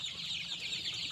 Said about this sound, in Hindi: सोनाली मुर्गी का फार्म है